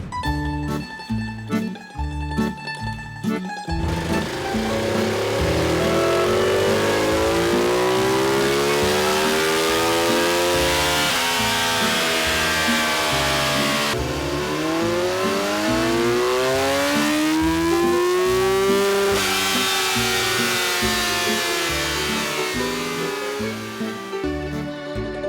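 Two sport-touring motorcycles, a BMW S1000XR and a Ducati Multistrada 1200 S, rev hard on a dynamometer, rising and falling in long sweeps through the gears, loud and close, after a brief choppy start.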